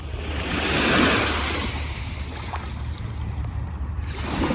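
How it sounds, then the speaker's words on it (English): Gentle ocean waves lap at the shore of Green Island, Jamaica, a soft steady wash of surf with light wind across the microphone, swelling slightly early on, with no voices. "The waves are really gentle."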